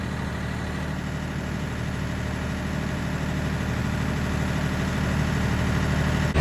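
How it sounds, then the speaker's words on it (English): A tractor engine idles steadily and close by, a continuous low rumble with a slight rise in level toward the end, with no talking. "So we're going to use the tractor to drive it in there."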